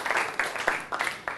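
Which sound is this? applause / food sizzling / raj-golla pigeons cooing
applause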